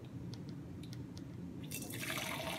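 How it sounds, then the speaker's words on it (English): Boxed wine streaming from the carton tap into a glass, a steady liquid pour that swells louder and brighter near the end as the glass fills, with no talking. "And I'm gonna pour."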